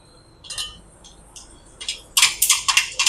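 Mustard seeds drop into hot oil in a kadhai for pav bhaji, first a few light ticks and clinks, then a rapid burst of sharp crackling pops close by.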